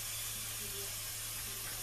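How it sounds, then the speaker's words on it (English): Olive oil cooking spray misted from a can over a pizza box, a steady close hiss held continuously with no voices. "I'm just going to spray it down really good with olive oil"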